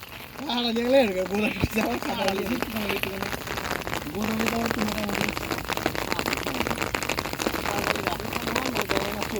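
Rain falls steadily on a flooded village area during a fishing outing, a dense continuous patter heard throughout, with people talking and exclaiming over it.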